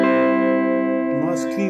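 Electric guitar played through a Blackstar Fly amplifier on a clean setting, a sustained, ringing chord with rich overtones that gently fades, then a brief shift as new notes come in near the end.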